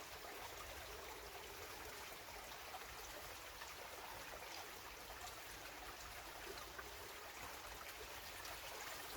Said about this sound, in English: it's pouring out, and that's purely because it hasn't been soaked enough